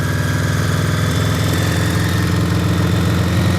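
A Honda Goldwing GL1100 motorcycle engine idles steadily in bitter cold, a close, loud, even low rumble with a fast regular pulse and no talk over it.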